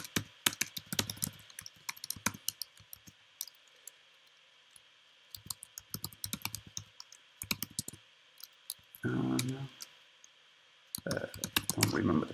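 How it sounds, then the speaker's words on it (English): Name and password being typed on a computer keyboard, heard as irregular bursts of close key clicks with pauses between, plus a couple of brief louder shuffling noises. "And let's type in my name."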